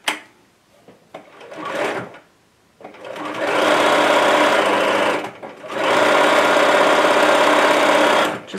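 A close, loud sewing machine stitches folded floral and candy cane fabric in two long steady whirring runs, preceded by a few short starts and handling knocks.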